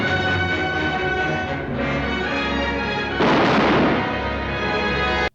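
A gunshot in the 1952 western film High Noon: one sharp, loud burst cuts into the film's full soundtrack of orchestral music and then fades out.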